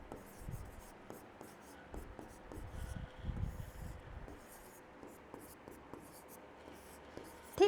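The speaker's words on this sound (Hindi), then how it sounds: "यहाँ पर ही लिख देती हूँ मैं इकारांत।" Marker or chalk strokes on a board during a Hindi grammar lesson, a run of short scratchy writing sounds at close range under a quiet room tone, with someone speaking softly in between.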